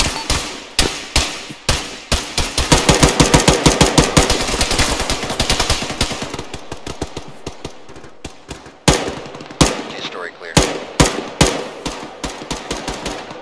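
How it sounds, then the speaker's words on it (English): .50 caliber machine gun fire in a video game, long rapid bursts of loud, sharp shots followed by scattered single cracks and short volleys. "Are you guys taking fire from a 50?"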